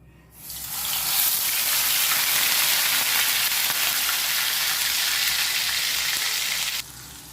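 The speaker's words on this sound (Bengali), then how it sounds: "তেলটা গরম হয়ে গেছে দিয়ে দিচ্ছি আদা বাটা রসুন বাটা পেঁয়াজ বাটা" A ginger, garlic and onion paste drops into hot white oil in a kadai for chicken tikka and bursts into a loud, steady, close hiss that holds for several seconds, then cuts back sharply, no talking.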